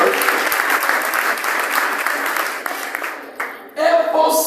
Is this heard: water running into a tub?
no